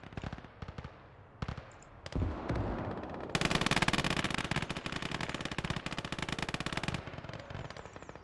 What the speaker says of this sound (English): this artillery is such a killer.